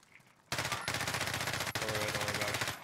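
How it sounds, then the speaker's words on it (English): Sustained automatic gunfire in Call of Duty Warzone, a loud rapid stream of shots at aiming at an airborne player, pausing briefly midway and then resuming, close and dominant throughout. "I'm shooting at that guy in the air."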